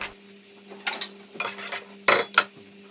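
A spoon scrapes and stirs rice and water with onion, chilli and salt in a pot in a few short bursts, with quiet gaps between, close by and with no talking.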